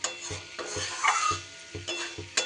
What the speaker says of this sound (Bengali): কপি দিয়েও এবার ভালো করে কষিয়ে নিতে হবে